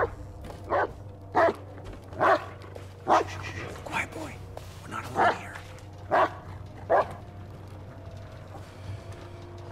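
A dog in the Blair Witch video game barks and whimpers in a series of about eight short, evenly spaced yelps over a low steady hum, fairly close.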